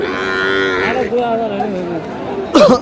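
A Sahiwal calf at a busy cattle market gives a long, loud moo that wavers in pitch and then fades, followed by a sharp burst of nearby noise, with crowd chatter underneath.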